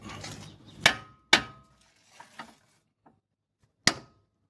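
Four sharp metallic hammer strikes on a steering knuckle of a 1998 Ford Explorer, spaced irregularly with quiet gaps and a couple of softer knocks between, close by.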